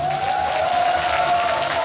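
Audience applause at a Korean traditional music New Year concert, a short, steady wash of clapping from a seated crowd heard from inside the hall.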